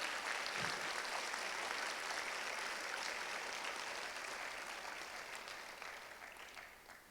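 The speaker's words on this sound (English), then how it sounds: "So give yourselves a round of applause for doing that." A crowd applauding at a speech event, dense sustained clapping that fills the space and slowly fades toward the end.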